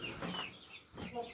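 Chickens eating homemade vitamin feed give a few soft, quiet clucks in quick succession, close by and with no talk over them.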